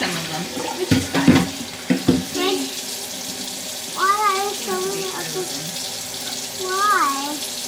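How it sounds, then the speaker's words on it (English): Tap water running over frozen bananas in a home kitchen, a steady splashing stream with a few clunks, while a child and an adult talk over it. "I put a little water on it"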